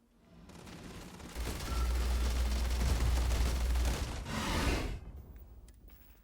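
A heavy explosive-round gun in Starfield fires in a sustained, booming burst with deep rumbling low end, loud and close, swelling, briefly easing, then surging once more before cutting off into quiet.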